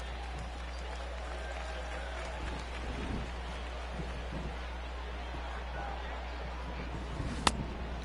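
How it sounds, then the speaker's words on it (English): Heavy rain at a baseball game, a steady hiss of falling water with a constant low hum underneath, faint crowd murmur and one sharp crack near the end. "the rain starting to intensify here. It's coming down a little heavier now."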